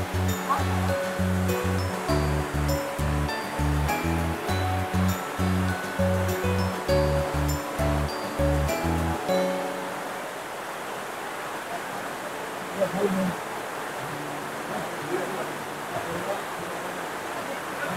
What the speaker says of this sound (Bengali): এখানে একটা ব্রিজ আছে, আর এখান থেকে একবার ঝর্ণার ভিউটা দেখুন